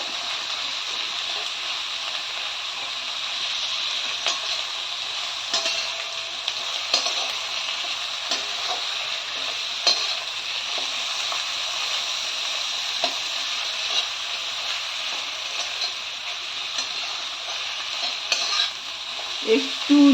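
Cinnamon sticks, cloves and crushed cardamom fry in hot oil in a pan, giving a continuous close sizzle with scattered crackles and stirring scrapes, without talking.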